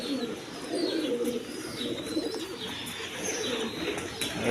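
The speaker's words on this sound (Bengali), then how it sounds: "এই দেখুন অনেক কবুতর আছে" Many pigeons of mixed high-flying breeds (Giribaz, Punky, Army, Silver) coo together at a breeder's loft with eggs and chicks, a dense, steady murmur of overlapping low calls with faint chirps above.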